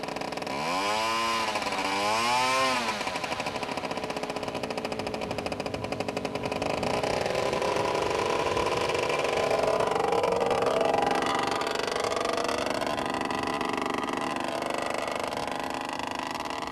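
A 22.5-pound RC P-51 Mustang scale model plane powered by a Moki 2500 radial engine runs loud and steady, its pitch sweeping up and down as it revs, then holding a sustained drone.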